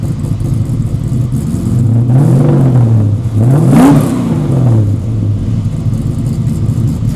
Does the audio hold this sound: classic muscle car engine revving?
yes